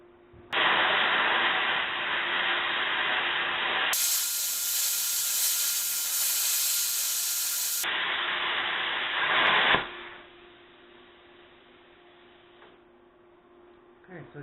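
A Hitbox Cut40 plasma cutter slices quarter-inch metal, a loud steady roaring hiss lasting several seconds that cuts off abruptly, leaving a faint background hum.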